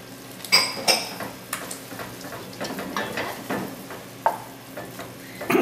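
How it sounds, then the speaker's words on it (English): Butter sizzles in a pot of French onion soup as a spoon stirs and clinks against the metal, close-up, with soft frying hiss and a few sharper scrapes, no talking. "we're gonna add just a little bit more butter, just 1 tablespoon, just for a little added richness to it"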